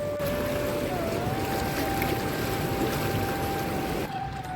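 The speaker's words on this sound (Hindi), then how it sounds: "ये गंगा की लहरें, ये कल कल कलाती हुई माँ गंगा जी की सुंदर सी लहरें" The Ganges at Rishikesh in drizzle, running river water giving a steady broad rush close by, with a continuous faint tone over it and no voices.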